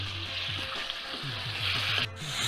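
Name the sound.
stirring mutton frying in oil in karahi pan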